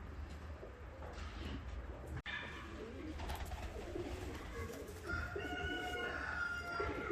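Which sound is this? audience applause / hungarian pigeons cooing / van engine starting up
hungarian pigeons cooing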